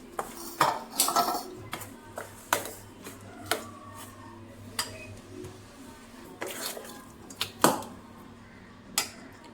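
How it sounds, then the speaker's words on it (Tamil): A spoon mixes semolina batter in a bowl, giving a run of close, sharp clinks and scrapes against the bowl at an uneven pace, each knock clear with quiet between and no talking. "இது ரெண்டையும் கலந்து ஒரு 10 நிமிஷம் ஊற வச்சுக்கலாம்."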